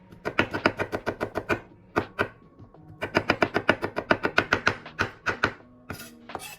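Knife mincing garlic cloves on a cutting board: quick, crisp rhythmic chops in two bursts with a short pause between, close and loud, no talking.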